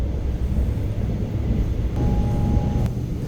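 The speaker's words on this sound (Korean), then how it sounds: "열차는 갑병역을 지나 어느새 북한강 위를 달립니다." A commuter train crosses a bridge over the Bukhan River near Gapyeong, heard from on board as a steady, heavy low rumble of wheels and carriage. A faint whine rises briefly partway through.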